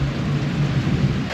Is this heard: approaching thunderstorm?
yes